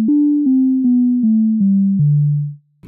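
Newfangled Audio Pendulate synth plugin playing clean, non-chaotic pendulum-style oscillator tones, a series of six sustained notes stepping gradually lower in pitch, each about a third of a second long, ending on a longer tone that fades out.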